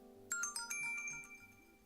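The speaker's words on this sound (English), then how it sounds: "That was my phone." A mobile phone ringtone chimes out a short, bright melodic run of tones. Each tone sounds fairly clearly over a low steady hum, with no voices.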